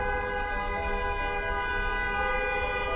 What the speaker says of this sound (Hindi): मोस्टली यहाँ पर जो हॉर्न देना होता है वो एक अच्छा साइन नहीं होता।